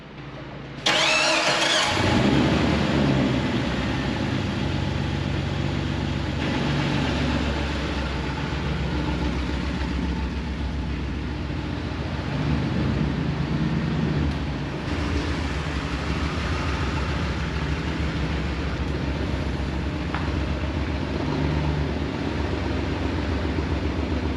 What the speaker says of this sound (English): Hopefully you guys can hear how rough it idles